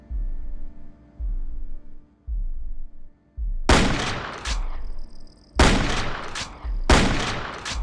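In the shooter Blood II, low rumbling thuds give way to several loud, sharp blasts, bursts of heavy gunfire or explosions separated by short gaps, close and harsh.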